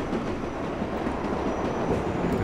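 Subway train running in the video game World of Subways 4, a continuous broadband rumble of wheels and motors on rails with faint rhythmic clatter, steady and close throughout.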